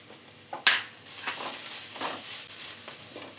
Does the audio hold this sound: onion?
yes